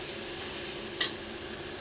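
Spice paste being fried in oil in a pan, a soft steady sizzle with one brief stir or utensil knock partway through, close and quiet.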